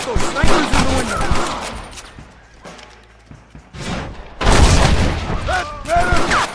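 A shootout in Red Dead Redemption on PS3 brings rapid booming gunshots in bursts, loud and close, with shouted voices between and over the firing.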